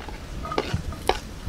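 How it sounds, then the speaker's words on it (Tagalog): Garlic sautéing in a pan for pancit, with a steady low sizzle under a few distinct scrapes and clinks of a utensil stirring against the pan. "Magigisa muna tayo."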